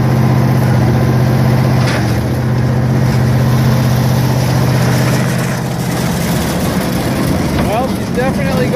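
An old International tractor runs close by with its PTO engaged, driving a New Idea 208 manure spreader. A steady low engine drone is joined by shifting mechanical clatter from the spreader, and a brief higher whine rises near the end.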